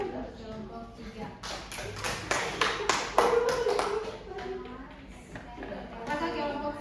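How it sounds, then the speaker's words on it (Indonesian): Applause from a school classroom group for one student team, a burst of many hands clapping that builds, peaks, then fades, with voices talking over and around it. "berikan aplaus untuk kelompok 3"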